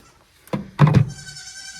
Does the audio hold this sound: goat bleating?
yes